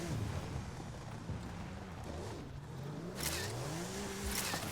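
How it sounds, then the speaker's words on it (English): Opponent car in an off-road head-to-head racing game drawing closer, its engine revving and rising in pitch, fairly faint under the steady drone of the player's own vehicle. "here comes a vehicle over here"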